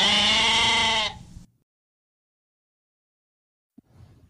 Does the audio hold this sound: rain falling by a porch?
no